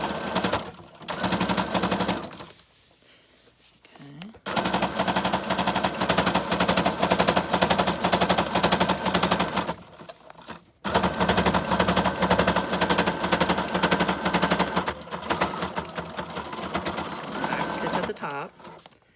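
A sewing machine zigzag-stitches through a paper bag junk journal in long fast runs of rapid mechanical chatter, close and loud, stopping briefly between runs.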